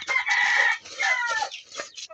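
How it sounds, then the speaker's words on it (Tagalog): Pet chickens at feeding time, a quick burst of several close clucks and squawks in uneven bursts over about two seconds, loud and alone. "ngayon magpapakain tayo ng aking mga alagang mga manukis"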